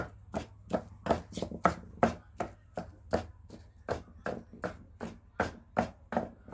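Catfish being pounded for a Thai fish dip: a steady run of about fifteen dull, evenly spaced thuds, close and clear, with no talking.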